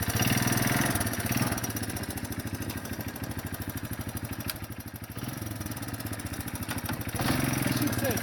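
Honda Big Red three-wheeler engine idling in a steady low, pulsing putter with mechanical clatter, close by and continuous throughout.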